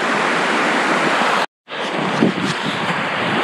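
A mountain stream rushes loudly as hikers try to cross it, a dense, steady roar of flowing water close by, broken only by a brief silent gap.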